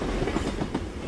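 A train in the game Please Don't Litter rumbles past close and loud, a brief dense roar of rolling wagons with a hint of rhythmic clatter.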